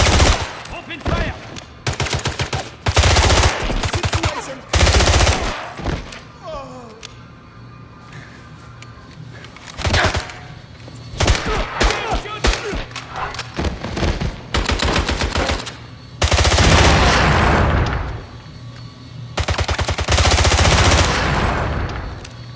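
Loud machine-gun fire from the video game 007 James Bond: Bloodstone, coming in repeated rapid bursts separated by short pauses, with some quieter stretches between volleys and occasional talk.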